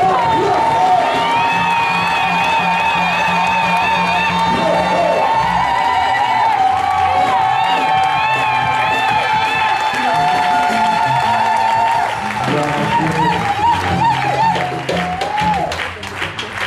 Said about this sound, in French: Quand il va s'avancer, nous acclamons